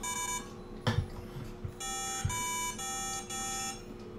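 Electronic Simon Says tones from the South Park: The Stick of Truth video game play as a sequence of steady beeps at different pitches, each held about half a second, with a few sharp thumps between them.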